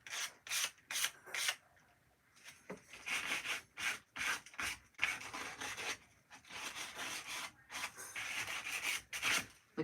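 Hand sanding of wooden furniture for an aged, old world finish: quick rasping strokes in uneven bursts with short pauses, close and fairly soft.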